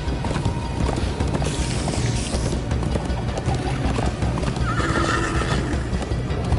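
A horse gallops with steady, driving clip-clop hoofbeats and lets out a loud neigh partway through, close and continuous over a busy background.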